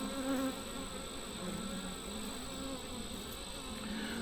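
Honeybees hum steadily around an opened brood frame lifted from a crowded hive split, a dense continuous buzz close by with a faint high whine over it.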